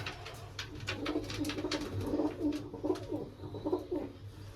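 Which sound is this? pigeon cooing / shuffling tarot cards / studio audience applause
pigeon cooing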